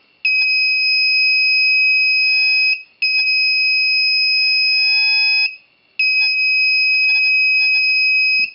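An electronic buzzer in a light sensor and laser tripwire learning circuit sounds three long, loud, steady beeps, each lasting a couple of seconds with brief silent gaps between them.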